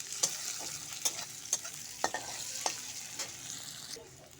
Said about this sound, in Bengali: তারপরে পেঁয়াজ কুচি ভালো করে ভেজে নেবো এটাকে